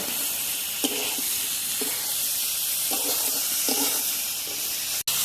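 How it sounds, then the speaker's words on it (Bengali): Marinated chicken goes into a pan of browned onions and sets off a loud, continuous close sizzle. Soft stirring strokes come through at a regular pace underneath, and nobody speaks. "এখন আমি মাখিয়ে রাখা মাংসটা ঢেলে দেব মাংসটা ভালোভাবে কষিয়ে নেব"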